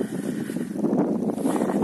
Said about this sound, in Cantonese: 但係幾大風呢度